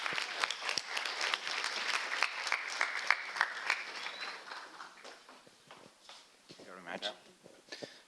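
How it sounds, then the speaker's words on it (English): Conference audience clapping for teachers at a Portuguese school projects event, a fairly quiet patter of scattered hands that thins out toward the end, with some voices and stray sounds near the close. "So give a warm applause to Marcia and Cristina"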